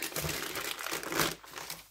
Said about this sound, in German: und ziehe das Papier komplett ab.